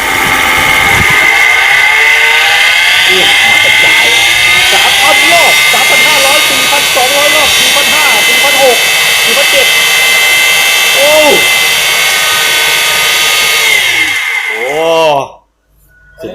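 A solar-powered water pump for a hotel wastewater treatment pond runs at about 4,000 rpm, a loud, steady, high-pitched whine with rising and falling tones, then briefly cuts out near the end before starting again.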